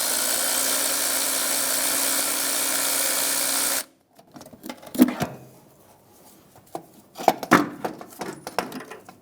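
Power tool spinning out a starter bolt under a 2007-2017 Ford Expedition with the 5.4L V8: several seconds of steady loud whirring, then silence broken by scattered metallic clanks and clicks, close by.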